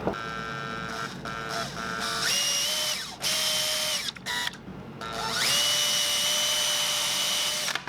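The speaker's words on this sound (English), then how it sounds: "Let's get all the pilot holes drilled." A power drill whirs in several bursts, drilling pilot holes in a stone fishing lure, pitch rising as it spins up, with brief pauses between holes, close and loud.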